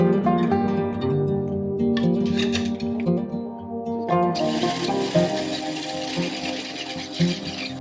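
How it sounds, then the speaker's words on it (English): A hand whisk beats a sugar mixture for a Danish summer soup. It gives a continuous close whirring, ratcheting sound that grows louder and brighter partway through. "we whisk this mixture for about 2 to 3 minutes until it becomes white and fluffy"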